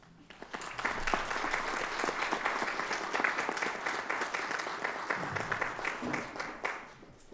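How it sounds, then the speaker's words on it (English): An audience at a school district budget meeting applauds teachers with steady, moderately distant clapping that swells quickly, holds for several seconds and then tapers off. "join me in a quick round of applause for the people who teach our kids"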